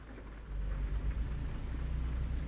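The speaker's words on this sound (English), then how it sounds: "right now it's probably raining consistently" Steady rain falls around a truck in American Truck Simulator, a soft continuous wash with a low rumble underneath, growing slightly louder after a moment, no speech.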